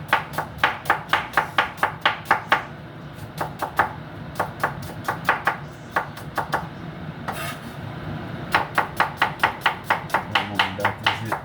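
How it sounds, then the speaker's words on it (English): Knife chopping an onion on a board for Jamaican garden seasoning, with rapid, evenly spaced sharp chops in repeated runs and brief pauses between, close and loud, no talking. "Make sure I cut up my onion properly."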